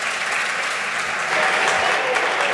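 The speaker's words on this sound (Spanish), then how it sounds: "Pido por favor para él un gran aplauso" Audience applause for a speaker at a cybersecurity conference talk, a thick continuous round of clapping from a large hall, steady and fairly loud for the whole stretch.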